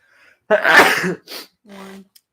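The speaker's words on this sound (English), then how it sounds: "My first sneeze on stream" A single sharp, explosive sneeze close by, with a quick breathy intake before it and a short exhale after.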